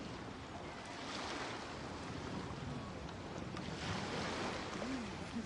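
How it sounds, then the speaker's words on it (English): Calm ocean waves in Genshin Impact wash steadily with a soft, even hiss of surf and light wind, a continuous rolling texture with gentle swells and no pauses. "The waves are as calm as always."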